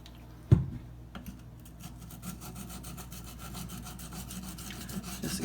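A Spyderco Endura knife with a K390 steel blade being sharpened, a sharp tap at the start followed by a continuous gritty scraping of steel on an abrasive, close and steady throughout.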